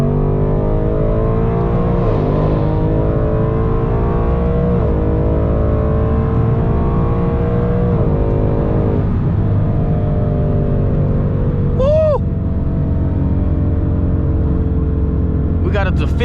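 A Ford Mustang with a newer transmission accelerates onto a highway, its engine note rising in repeated climbing sweeps with quick shifts between them, loud and steady from inside the car, with brief talk over it.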